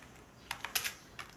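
Sparse keystrokes on a computer keyboard while Python code is typed, a few quiet clicks in short bursts separated by pauses, heard alone.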